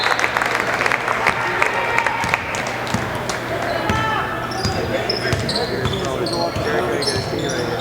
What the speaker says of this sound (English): now he gets his big round of applause